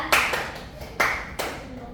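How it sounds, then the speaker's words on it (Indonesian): A classroom gives a short round of applause for a student named Nabila during a microteaching session: a few distinct, separated bursts of clapping, close and moderately loud, fading between each. "Boleh tepuk tangan dulu untuk Nabila"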